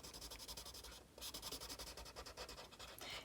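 Steady scratchy rubbing of a brown colored pencil on paper, shading a tree trunk, close and continuous in quick back-and-forth strokes, with a brief pause partway through.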